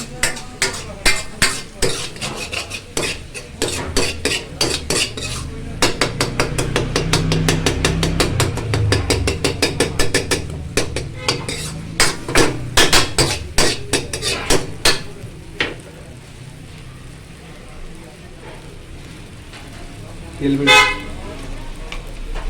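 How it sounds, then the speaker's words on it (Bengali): Spices are stirred and fried in oil in a pan for chicken bharta, with sizzling, rapid clattering scrapes of a spoon against the pan and a voice talking at times. "মশলা দিয়ে তেল ছাড়ছে"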